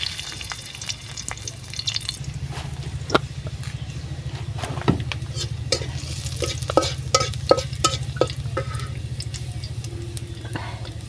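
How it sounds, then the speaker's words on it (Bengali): Onions frying in oil in a pan, a steady sizzle with frequent scraping and tapping of a stirring utensil, over a low constant hum. "যে তেল দিলাম ওখানে যে পেঁয়াজ দিলাম"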